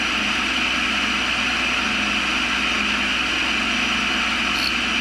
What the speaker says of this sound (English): So I'm going to start grinding on this.